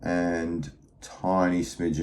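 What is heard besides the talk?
No distinct noise like a dog, phone or traffic.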